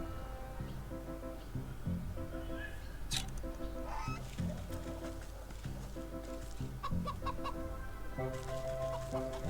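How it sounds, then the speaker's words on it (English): An angry goose in the Wytchwood video game honks and clucks repeatedly in short irregular bursts over steady game music, fairly faint, with no talk. "Oops, angry goose."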